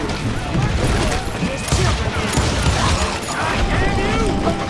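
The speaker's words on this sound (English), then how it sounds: "They're shooting in the street!" A chaotic street shootout in the Western game Call of Juarez Gunslinger, dense overlapping gunfire crackling loudly and continuously, with voices shouting beneath the shots.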